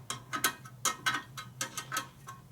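Spoke wrench turning the nipples on a laced star-hub wheel of a 1942 Harley-Davidson WLA/WLC 45ci, giving a run of sharp, close ratcheting clicks in irregular bursts over a faint steady hum.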